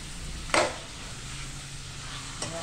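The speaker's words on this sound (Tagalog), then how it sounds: "Gisa-gisa and i-brown natin ang ating karne." Pork leg (pata) browning in hot oil for paksiw na pata, a steady low sizzle with a sharp stir-scrape near the start and a fainter one near the end.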